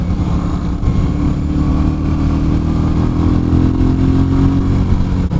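Royal Enfield Meteor 350 motorcycle cruising on a highway, its engine droning loud and steady throughout with a continuous buzzing hum and heavy wind rush, no talking.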